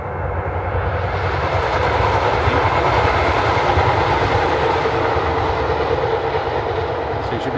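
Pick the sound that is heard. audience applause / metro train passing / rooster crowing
metro train passing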